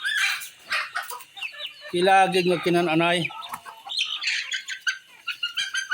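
Native Visayan chickens cluck and a hen lets out a drawn-out, harmonic call up close, with people chatting quietly around them.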